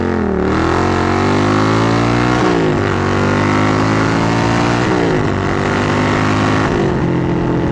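A 1995 Suzuki Intruder VS800 motorcycle engine revs hard and loud through the gears, its pitch climbing in repeated pulls, each broken by a brief dip at a shift, with no talking.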